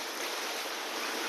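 Broad, steady hiss of ocean waves and surf at a Quezon Province beach, close and continuous with no distinct breaks and no voices.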